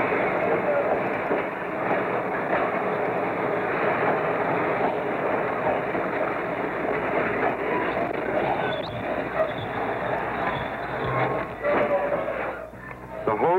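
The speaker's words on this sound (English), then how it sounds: "The locomotive finally rolls out of the service area and is coupled to the waiting train." A New York Central Railroad locomotive rumbles and clatters steadily at moderate distance in a freight yard, rolling out to couple to a freight train, with metallic rolling noise and occasional clanks, while a voice talks over it.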